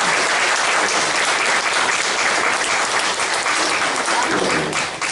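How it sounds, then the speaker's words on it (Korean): Audience applause at a church blessing ceremony for a couple, a dense, steady wash of many hands clapping that stays loud throughout and fades slightly at the end. "축하의 박수를 부탁드리겠습니다."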